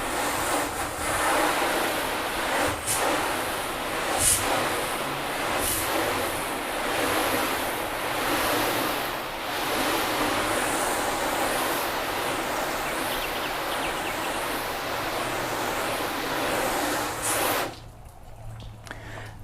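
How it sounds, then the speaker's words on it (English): A hose sprays water across a car for a rinse, a loud, continuous hiss and splatter close by that swells slightly as the spray moves over the panels, then cuts off near the end. "we'll just rinse it down."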